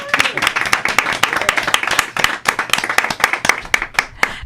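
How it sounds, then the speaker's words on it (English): Lively applause for a radio show guest, close and loud with distinct individual hand claps in an uneven rhythm, a small group clapping without talk. "Let's give Vanessa Davis a round of applause, everyone"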